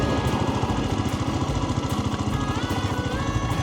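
A motorcycle engine runs steadily with a fast, even, pulsing throb close by while being ridden on a spring day near Maple Valley, Washington.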